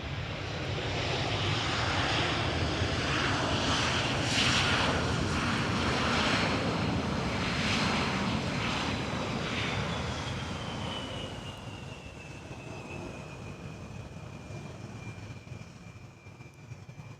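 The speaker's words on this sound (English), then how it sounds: "Embraer 175 arriving from Norwich" Embraer 175 jet arriving from Norwich and landing at Amsterdam Schiphol: a loud, close engine roar with a high whine that slides downward, then fades gradually as the aircraft passes and moves away.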